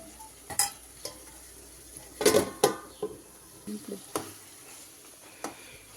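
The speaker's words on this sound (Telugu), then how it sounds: "మనం చేసి పెట్టిన ఈ గ్రేవీలో అయితే వేపుకున్న ఈ పచ్చిమిర్చిని ఇందులో వేసుకొని కొద్దిసేపు మూట వేసుకోవాలి" Fried green chillies simmering in gravy in a pan. A quiet bubbling runs underneath scattered stirring scrapes and a few sharp utensil clinks against the pan, heard up close.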